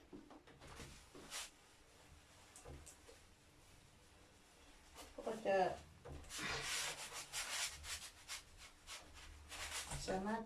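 Glass is rubbed and scrubbed clean by hand, with close, repeated rasping strokes that grow longer and louder toward the end, mixed with faint handling noises.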